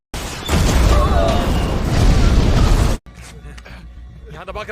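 An RPG round strikes an armored patrol vehicle in a heavy, loud explosive blast that roars for a few seconds, then cuts to a quieter scene with faint mechanical noise.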